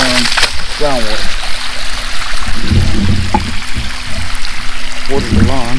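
A sump pump discharges groundwater from around a backyard pool onto the lawn, making a steady splashing trickle. A person talks now and then over the flow.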